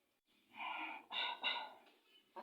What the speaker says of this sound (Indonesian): Batuk bae tadi.